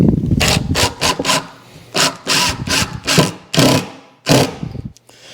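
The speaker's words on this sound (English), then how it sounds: "So we'll go ahead and finish putting these screws in." A power driver runs 1.5 inch screws into a wooden bar top in loud, close bursts, with about nine whirring runs separated by short pauses and no speech.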